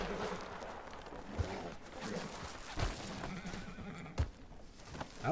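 A horse in the Red Dead Redemption video game neighs and whinnies repeatedly, with hoof clip-clops and brief snorts at moderate, fairly quiet level.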